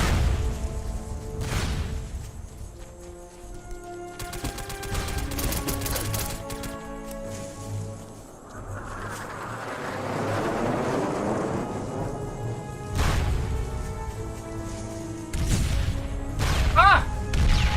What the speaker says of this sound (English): Someone tell these guys to calm the fuck down with these grenades